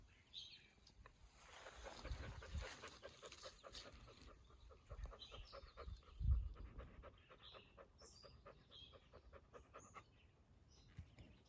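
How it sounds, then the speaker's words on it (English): A hot dog pants in rapid, soft rhythmic breaths close by outdoors, with birds chirping in the background and some rustling. "A hot pup."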